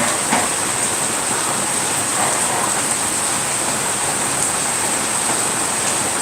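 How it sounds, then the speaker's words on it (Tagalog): Heavy rain pours down steadily in a dense, loud, unbroken hiss, with faint scattered taps on surfaces and no talking. "Ayan, lakas ng ulan na."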